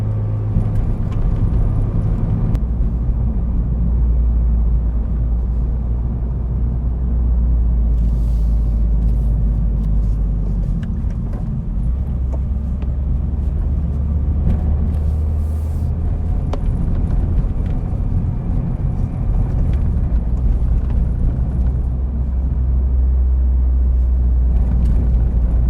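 A 2026 Toyota GR86 with a six-speed manual gearbox drives along, its engine giving a loud, continuous rumble and whir under road noise throughout, with no talking.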